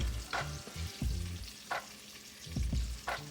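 Small party chicken wings, coated in egg and flour, fry in hot oil with a steady close sizzle, broken by several low thumps and clatters from handling the pieces.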